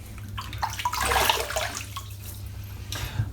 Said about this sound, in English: Then I'll wet my face.